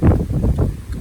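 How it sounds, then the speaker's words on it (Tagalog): Strong wind gusts buffet the microphone outdoors in a short, rough burst of low rumbling noise, loud and close, with no talking. "Lakas ang hangin ngayon dito."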